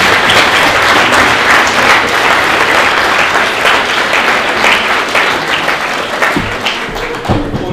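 Sustained, loud applause from an audience welcoming Chancellor Werner Faymann at FH Burgenland, many hands clapping steadily and thinning slightly toward the end.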